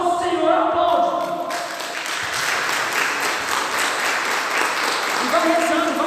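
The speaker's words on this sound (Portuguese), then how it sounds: "aplaude nosso Senhor, aplaude" A church congregation applauds during a Catholic sermon, dense continuous clapping filling the room while the preacher's voice carries over it at the start and end.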